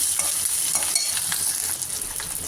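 Big onions fry in a pan for paruppu urundai kulambu, a close, continuous bright sizzle with soft stirring strokes.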